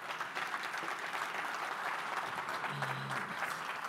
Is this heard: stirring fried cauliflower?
no